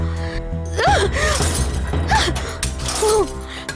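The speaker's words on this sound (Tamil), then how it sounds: "German jug உடைஞ்சிருச்சு." A German glass jug breaks indoors, a sharp shatter followed by scattering glass, heard under dramatic music with a gasp-like vocal moment.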